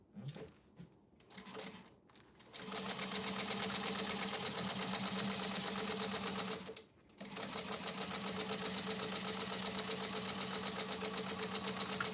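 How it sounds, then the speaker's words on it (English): A sewing machine runs steadily with a rattling bobbin, a continuous mechanical whir after a few short starts, broken by one brief pause before stitching resumes at the same even pace. "I can hear my bobbin rattling."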